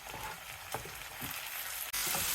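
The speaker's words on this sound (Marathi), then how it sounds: "टोमॅटो घालून घेत आहोत" Chopped tomatoes sizzle steadily in hot oil in a pan with green chili and red spice while a traditional red pumpkin curry cooks. A soft stir sounds partway through, and the frying grows louder near the end.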